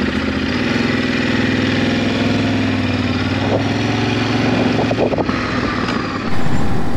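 A motorcycle engine droning steadily while riding on a UK road trip, with low rumbling and wind noise throughout, loud and close, ending in a louder rush of air.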